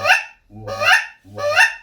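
A goose call is blown while the caller hums into it. It gives three loud, raspy honks, each rising and falling, with short silent gaps between them.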